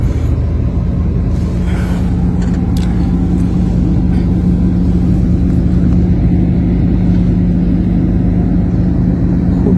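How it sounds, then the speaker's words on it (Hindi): A car drives into Lahore Fort in Pakistan, heard from inside as a loud, constant low engine and road rumble with a steady hum and no talk. "आज हम जो है किले में गाड़ी के साथ एंटर हुए हैं"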